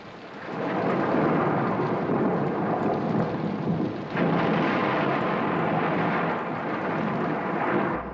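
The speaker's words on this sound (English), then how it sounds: "The storm's really building up." A steady roar of heavy rain with deep rumbling thunder rolling throughout, loud and continuous without a break.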